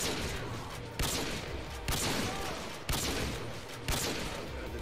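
Bursts of assault rifle fire in Modern Warfare 2 come in repeated loud volleys roughly every second, each sharp onset trailing into rattling echo, with no talk over them.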